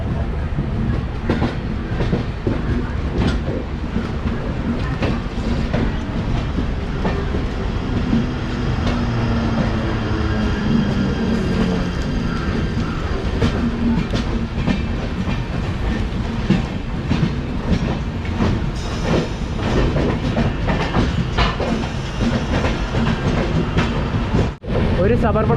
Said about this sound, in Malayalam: ഒരു സബർബൺ ഉണ്ടല്ലോ, ആ പാലത്തിൻ്റെ മേലെ നിന്ന് ഇറങ്ങി വരുന്നുണ്ട്.